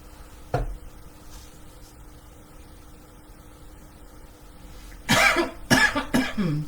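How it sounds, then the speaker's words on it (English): Person coughing while wearing a mask during glue and cinnamon dough mixing, one short cough early, then a quiet stretch, followed by a burst of several harsh coughs close by. "I have the mask on and I'm still coughing."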